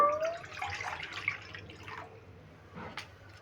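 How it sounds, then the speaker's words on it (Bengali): Water poured into a wok (kadai) for boiling raw mangoes, a faint nearby splashing and trickling pour that fades out, followed by a couple of small drips, with no voices. "আমি কড়াইতে দিয়ে দিচ্ছি জল"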